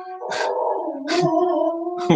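A pet dog howls in long, sustained wavering tones. The voice swells and dips over about two seconds, with brief higher yips breaking in. It sounds close and fairly loud, with no talking.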